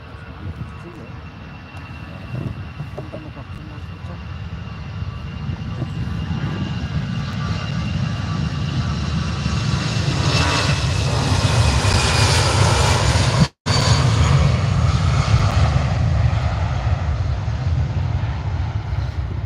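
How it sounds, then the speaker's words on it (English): EasyJet jet airliner taking off from Manchester Airport, a steady broadband engine roar that builds gradually and peaks mid-pass before holding loud to the end, with no talk over it. "So that was the EasyJet off to Geneva."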